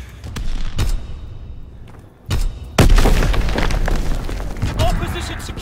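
Heavy booms from bomb blasts in Call of Duty WWII, in a Domination match at Sainte Marie du Mont, with several loud impacts and a rumbling aftermath mixed with shouted soldier callouts.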